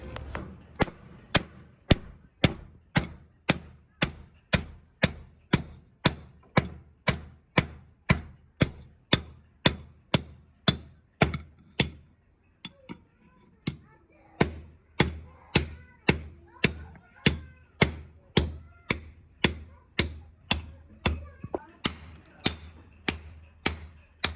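A blade struck repeatedly with a hammer to sharpen it, a long run of sharp, evenly spaced metallic blows close by, with a brief pause midway before the steady beating resumes.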